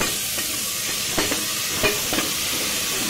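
Coconut paste being stirred into rice frying in a pan, with a soft steady sizzle and a few scraping stirs of the spoon, close and alone.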